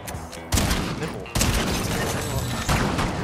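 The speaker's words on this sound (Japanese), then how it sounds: "すげえ銃声めっちゃ聞こえる" Fortnite gameplay with dense bursts of rapid gunfire that come in waves, cut in abruptly and stay loud, over a background of game sounds.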